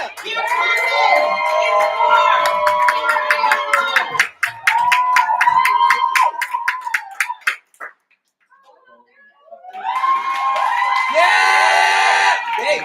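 A poetry slam crowd in Berkeley greets a poet coming to the stage with dense, close clapping, whoops and cheering. The noise stops briefly, then erupts again with louder cheers and shouts.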